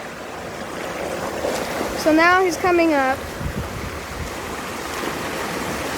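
Water from a waterfall rushes in a steady wash that runs under the whole clip. Someone speaks briefly partway through.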